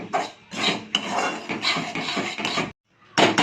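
Semolina (rava) being dry-roasted in a pan for upma, with a spoon scraping and stirring against the metal in repeated rasping strokes, close and fairly loud, pausing briefly before resuming.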